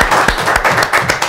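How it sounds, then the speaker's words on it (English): A crowd at the Gasworks 2023 show applauds in a loud, close wash of clapping, with a few sharp, distinct claps standing out over the dense background. "Round of applause, everyone."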